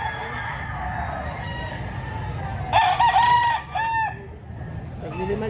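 Fighting roosters at a market, one crowing clearly nearby with a drawn-out cock-a-doodle-doo over a crowd's murmur, with clucks and a second shorter crow following while people talk in the background.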